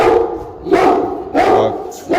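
Heavyweight show dogs at a rural dog event give three sharp, loud barks close by, spaced about half a second apart over a rough background.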